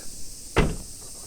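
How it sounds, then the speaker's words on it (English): A single solid thump of a 2002 Nissan Elgrand 4WD minivan's trunk shutting, short and close, over a quiet steady hiss. "Close the trunk."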